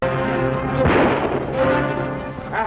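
A firecracker is thrown and bursts in an old 1938 adventure serial scene, giving a sharp, loud bang with a crackling noisy burst around the middle and a rumbling decay against a busy, steady background.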